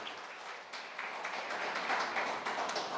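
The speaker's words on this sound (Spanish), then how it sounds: "Dale un fuerte aplauso al Señor." A church congregation applauds loudly and steadily for about three seconds, a dense wash of many hands clapping together that swells slightly toward the end, with no speech over it.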